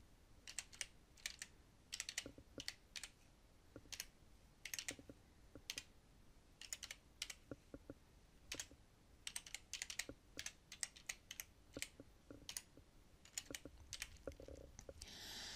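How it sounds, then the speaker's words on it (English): Rapid, irregular clicking of a computer keyboard as a website URL is typed into a browser address bar, close and clear, with short bursts and brief pauses throughout and no talking. "now I will enter the URL of the zip file in the address bar here"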